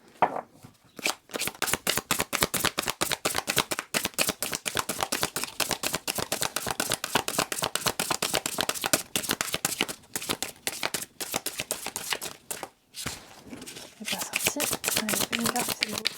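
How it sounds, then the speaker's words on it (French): Oracle cards are shuffled and drawn during a French card-reading session, giving a long run of dense, rapid riffling and flicking that carries on steadily for most of the clip, with a couple of short pauses. "je vais vous tirer une petite carte de synthèse par rapport à ça"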